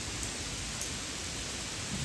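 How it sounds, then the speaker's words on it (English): Autumn rain falls at a bonsai nursery, dripping onto a pond and a glass roof, making a steady, dense hiss of drops with faint brighter ticks, continuous and even with nobody talking. "You can see how the raindrops are falling."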